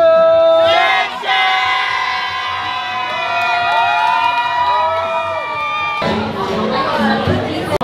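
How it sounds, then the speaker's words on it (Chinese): A festive crowd cheers and whoops at the opening day of Jewel Changi in Singapore, loud and sustained with shouting voices and chatter throughout, bursting into a fresh rise of noise near the end. "原来他们有一个欢呼声"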